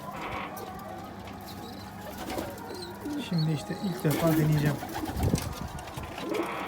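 Pet pigeons coo in a low, repeated warble close by while someone talks over them, with small rustles around the birds.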